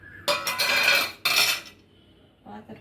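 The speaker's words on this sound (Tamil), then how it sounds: "பாத்திரத்தை எடுத்துக்கிட்டேன்." A metal tempering pan with its lid and ladle picked up in a kitchen, two loud clattering bursts of metal on metal close by, then a brief lighter clink.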